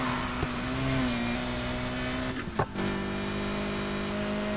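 A car engine in the racing game Need for Speed Heat holds a steady, close, loud drone with shifting pitch as the car accelerates, broken by a brief dip and thump partway through.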